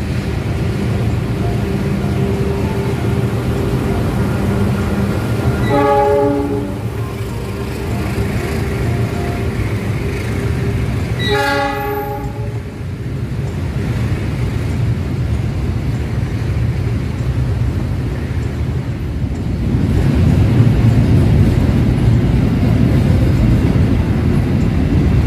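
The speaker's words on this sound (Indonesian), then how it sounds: "Ada kereta." A train passes near an Indonesian railway station with a steady loud rumble, and two short horn blasts sound around the middle before the rolling noise swells again toward the end.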